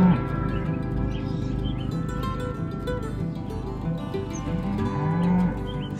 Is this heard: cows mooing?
yes